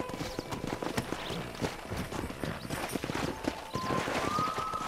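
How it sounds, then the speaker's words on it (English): Several wild horses gallop in a rapid, continuous clatter of hooves in the video game Red Dead Redemption, with a faint whinny near the end. "there's a pack of wild horses nearby."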